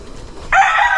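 A fighting cock crows at a gamefowl breeder's place in the Philippines, one loud, sustained crow that bursts in midway after a quiet, murmuring background and holds to the end.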